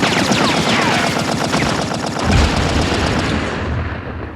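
Dense, continuous machine gun fire rattles through a World War I trench battle, loud and close, with rapid overlapping bursts and a heavier thump midway.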